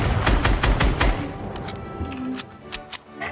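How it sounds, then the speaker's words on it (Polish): Fortnite gunfire: a quick, loud string of about six evenly spaced shots, followed by a few sparser, softer cracks as the action dies down. "W głowę mi strzelałeś."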